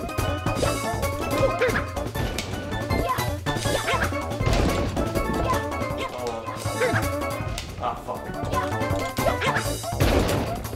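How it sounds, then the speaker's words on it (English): Wooden crates smashed in Super Mario Sunshine, a dense stream of cracking and thwacking game impacts mixed with yelping character sounds and music, continuous and busy throughout. "So break all the crates within 30 seconds to win a prize."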